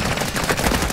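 Gunfire in Warzone 2.0 comes as a loud, rapid automatic burst. The shots are close and continuous with no pause and no talking.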